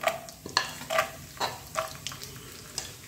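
Cashews, almonds and raisins fry in a pan for chana dal halwa, with a soft sizzle under repeated scraping and stirring clinks of a spoon against the pan, close and moderately quiet.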